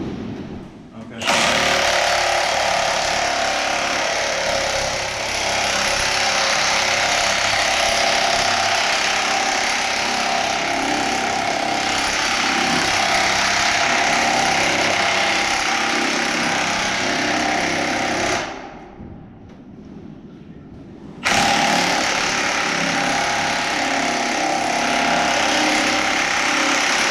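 An impact wrench hammers loudly and continuously on the threads of a Titan II missile silo escape hatch, a harsh rattling drone that stops for a few seconds and then resumes just as hard.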